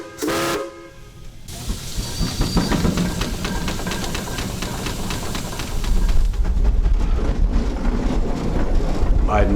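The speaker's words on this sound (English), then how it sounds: "I'd never driven a steam-powered anything, let alone this big monster of a tractor." A large steam-powered traction engine tractor running on a farm, a loud rhythmic chuffing and rumble with a brief whistle-like tone at the start, growing heavier and deeper toward the end.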